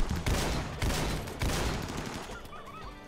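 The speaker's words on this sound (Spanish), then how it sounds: "estamos pegando tiros a través de la gente otra vez" Gunfire in the colony-building video game RimWorld, a dense rattle of shots forming a fusillade that stays loud and continuous throughout, with faint bird-like chirps near the end.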